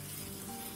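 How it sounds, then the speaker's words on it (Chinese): Chili flakes, chili powder, sesame seeds, salt and cooking oil are stirred together in a bowl, giving a brief, steady, close sizzling scrape with no voices. "搅拌一下。"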